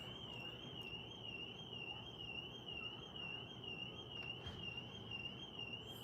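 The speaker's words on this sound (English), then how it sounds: "Somebody's car alarm, maybe?" A steady, warbling electronic car alarm sounds continuously at a distance, unchanging over a constant background rumble.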